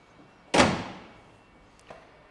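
A car door on a project car being prepped for paint swings shut with one solid, close slam that rings out briefly, followed by a faint small knock, with no talking.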